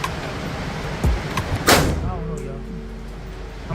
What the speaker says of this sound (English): I think this doesn't like to be shot slow.